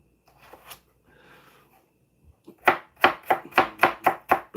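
A knife chops vegetables for samosa filling on a board: faint scraping and shuffling at first, then about eight sharp, evenly spaced, close chops in quick rhythm.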